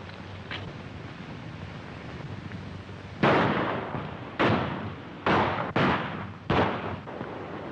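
Gunshots in a 1936 Western shooting contest, five sharp loud reports spaced irregularly over a few seconds after a quiet stretch, with no talk between them.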